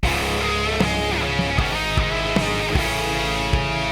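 A dense, distorted guitar riff plays over steady driving drums, chords churning thickly with regular accented hits throughout.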